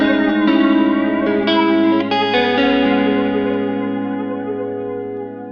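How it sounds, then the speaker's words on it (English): Flanger sweep from a Strymon TimeLine MX pedal on electric guitar, several picked notes and chords with a whooshing, comb-filtered swirl, the ringing tail fading gradually with no talk. "Then we get the traditional flange sounds."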